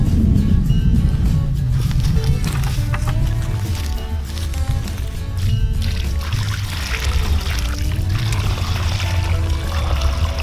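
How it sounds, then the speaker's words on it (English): Water pours steadily into a soil moat around a newly planted apple tree, a continuous loud splashing and gurgling trickle close by that lasts the whole stretch with no talking. "I've got some water here. I'm gonna fill up this little moat"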